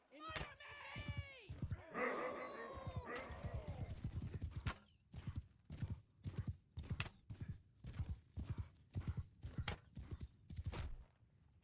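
Horse hooves clip-clop in the Mount & Blade II: Bannerlord video game during a nighttime battle, a steady run of sharp, evenly spaced hoof strikes, preceded by a whinny and brief talk.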